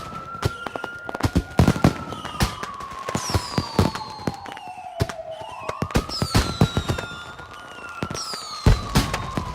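Fireworks go off in the video game Watch Dogs 2: repeated sharp cracks and pops in irregular bursts, together with rising and falling whistling tones and a long wavering siren-like wail, fairly loud throughout.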